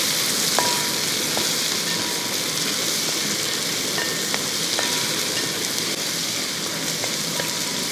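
Beef with onions and small chillies frying in a pan in a Kerala-style beef fry, a steady soft sizzle with occasional light clinks of a stirring spoon, no talking.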